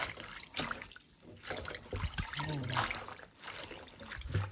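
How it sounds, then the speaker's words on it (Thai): Chinese broccoli greens rinsed under running water, with splashing and trickling in uneven bursts close by as the leaves are handled, a voice speaking faintly over the wash. "ล้างน้ำให้สะอาดเลยนะคะ มาทีฝุ่นที่ดินอะไรก็ออกไปเนาะค่ะ"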